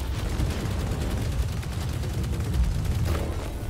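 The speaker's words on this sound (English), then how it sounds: "This is what happens if you shoot. I'm shooting at my teammate here." Weapon fire in the War Robots Frontiers mech game on a snow map, a steady rumbling, dense clatter of continuous shots aimed at a teammate, droning evenly throughout without pauses.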